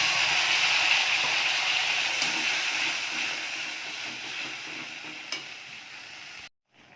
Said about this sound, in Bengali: এবার তেজপাতা ফোড়ন দিচ্ছি, আর হচ্ছে গোটা জিরে ফোড়ন দিচ্ছি।